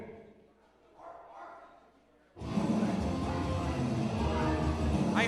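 A quiet stretch of faint sounds, then a loud, dense crowd roar at a pro wrestling show rises abruptly and holds, with a dog barking somewhere within the din.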